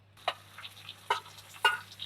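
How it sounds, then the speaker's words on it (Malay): Salted fish and chicken pieces fry in a wok for Cantonese-style fried rice, giving a faint, low sizzle broken by three distinct scraping or clinking strokes of a spatula. "Goreng sehingga isi ikan ni menjadi keperang-perangan. Kita boleh masukkan isi ayam."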